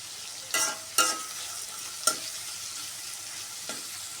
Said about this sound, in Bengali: আমাকে একটু বেশি সময় ধরে পেঁয়াজ ভাজতে হয়